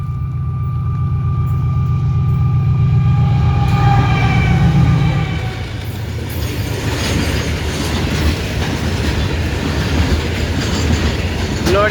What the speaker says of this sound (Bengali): মানে গুস ট্রেন